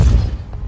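Depulso spell cast in Hogwarts Legacy, a single short low thumping blast with a heavy boom that decays quickly within a second, loud and close.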